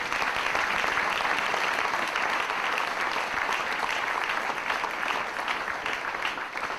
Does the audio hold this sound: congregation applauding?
yes